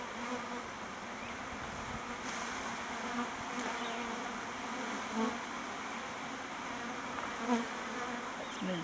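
Honey bees buzzing around a hive at an apiary during an inspection of a bee nuc, a steady dense drone with individual bees flying close past now and then.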